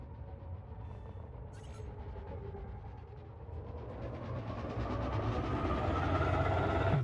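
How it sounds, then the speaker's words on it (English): Spaceship engines engaging in Elite Dangerous: a deep, continuous mechanical rumble that swells gradually louder and denser, heard alone without speech. "Landing gear retracted. Ship released. Engines engaged."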